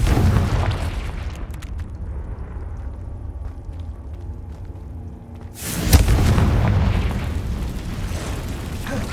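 Confringo fire-spell explosions in the video game Hogwarts Legacy, cast inside a cave: a long rumbling roar of blasts, then a sharp, loud burst near the end, with no speech.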